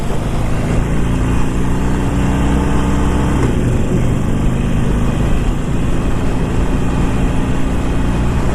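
Engine of a 2019 Harley-Davidson Iron 1200 motorcycle while riding at lower RPM on a bumpy road, a loud steady low rumble with wind noise that holds throughout without talk.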